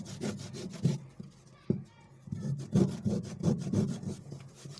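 Hand filing the edge of a leather insole, a series of close raspy scraping strokes in an uneven rhythm with brief pauses between them.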